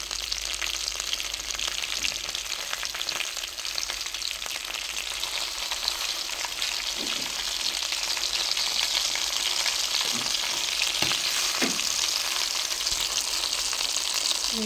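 Chicken sizzles loudly in oil with whole garam masala spices, cooking for a homemade biryani, a dense continuous crackle close by with a few soft utensil knocks late on and no talking.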